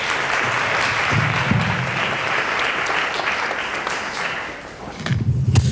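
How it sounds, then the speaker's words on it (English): Applause from an audience at a college planning and financial aid evening greets speaker Mychal Wynn, steady sustained clapping that dips briefly near the end and then swells again. "Let's give him a round of applause."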